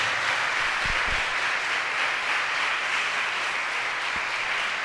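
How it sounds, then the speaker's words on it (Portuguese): A church congregation applauds at an Easter service, a steady wash of clapping from many hands that holds at even strength throughout, with a few low thumps mixed in. "Pode dar uma salva de palmas para Jesus, cenáculo da fé."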